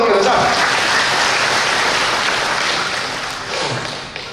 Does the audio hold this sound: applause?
yes